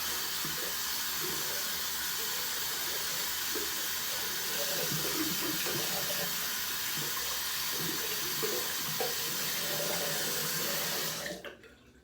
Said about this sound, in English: Go ahead and rinse off the brush.